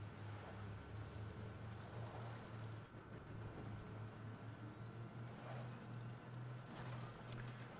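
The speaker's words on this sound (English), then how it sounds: "So it's raining and pouring and stuff is still not quite rendering very quickly." Steady rain falls in the tank game Armored Warfare, a soft continuous hiss over a low droning engine hum, faint and unbroken throughout with a few small clicks near the end.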